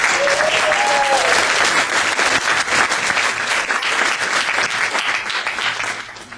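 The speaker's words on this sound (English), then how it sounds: "Give him a round of applause." Sustained audience applause at a live patriotic event, dense and steady clapping with a brief whistle early on, fading toward the end.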